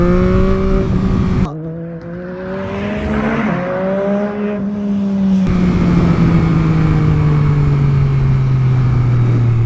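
A 2022 Yamaha MT-09 motorcycle engine revs hard during a wheelie, loud rising and falling tones with abrupt throttle cuts and steady climbs, close and dominant throughout.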